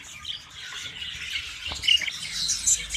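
Budgies kept in cages squawk and chirp in quick, fairly close bursts, a busy chatter of harsh calls that continues throughout with no talking over it.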